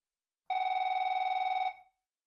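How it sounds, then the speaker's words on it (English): A telephone rings alone in silence, a single sustained, rapidly trilling electronic bell burst lasting just over a second before cutting off. "A phone call out of the blue,"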